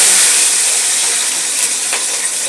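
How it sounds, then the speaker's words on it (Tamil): Cinnamon, cloves and other whole spices sizzle in hot oil, a loud, steady close hiss with small crackles that runs unbroken and without talk. "இப்போ வந்து எண்ணெய் ஹீட் ஆகிடுச்சு. இப்போ வந்து நம்ம பட்டலவங்கம் போட்டுக்கலாம்."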